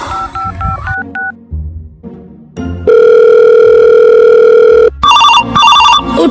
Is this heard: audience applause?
no